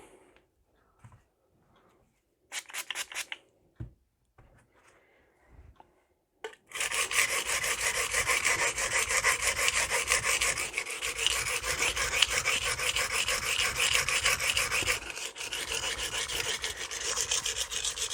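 An 8-inch Magnacut chef's knife is sharpened on a coarse Norton Crystolon silicon carbide stone: a few brief scrapes, then a loud, close, continuous gritty rasp of steady back-and-forth strokes.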